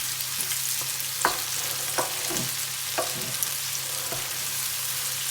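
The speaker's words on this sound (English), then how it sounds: "Keep stirring. Really don't want it to brown, so just pay it some attention." Garlic sizzles gently in a pan on low heat while a utensil stirs it, giving several scraping knocks against the pan over a steady hiss.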